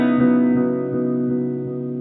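A guitar played through a Diamond Memory Lane 2 analog delay pedal with the EQ turned dark sounds a single sustained, muffled note that fades gradually with soft repeating echoes.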